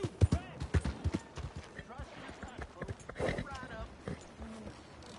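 Horse hooves clip-clopping in the video game Red Dead Redemption 2 make uneven knocks under near-constant talking, with other game sounds mixed in.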